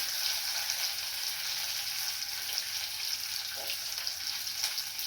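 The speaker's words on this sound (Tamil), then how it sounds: "இப்போ வந்து ஒரு கைப்பொடி சின்ன வெங்காயம்" A handful of small onions fries in hot oil in a pan, giving a steady, fairly faint sizzle with no talking.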